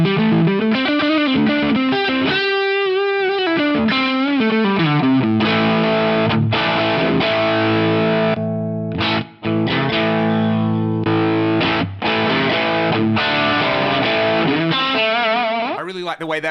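Electric guitar on the neck pickup through a smooth overdrive from a Fractal Audio VP4, playing sustained, singing lead lines and chords that ring loud and continuous, with a brief gap midway and no talking.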